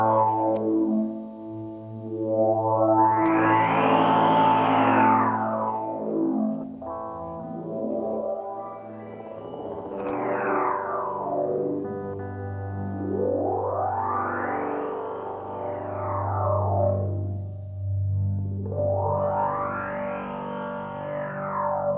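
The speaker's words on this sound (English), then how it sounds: "The next mode is called compressor, and it is the multiband compressor for each of the bands." Synth tones pass through the multiband compressor mode of an Endorphin.es Ghost pedal, slow sweeping swells rising and falling four times over a steady low drone, dense and distorted.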